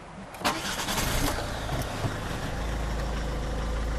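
A 2008 Volvo S40 Sport R-Design with a 2.0 diesel engine cranks and fires up, then settles into a steady low idle, close by with no voices.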